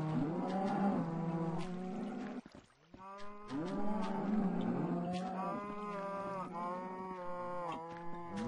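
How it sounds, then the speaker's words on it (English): Cows mooing in the video game Minecraft, a series of loud, close, drawn-out moos repeating one after another with a brief pause near the middle. "Come on, yes, stupid cow! Get out of there!"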